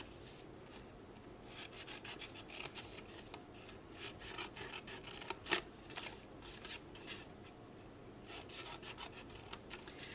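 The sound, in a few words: paper snips cutting cardstock along a score line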